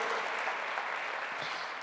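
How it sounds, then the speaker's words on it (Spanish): A church congregation claps together in a steady, dense wash of applause that stays even from start to finish. "Dale fuerte ese aplauso al Señor."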